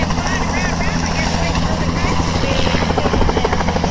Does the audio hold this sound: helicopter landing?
yes